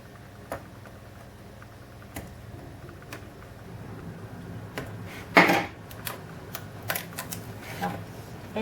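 A Brother ScanNCut machine cutting a stencil gives faint, sparse ticks and clicks over a quiet background, with a louder scraping burst midway and a few more sharp taps after it.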